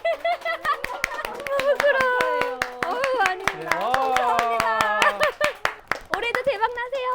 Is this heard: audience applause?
yes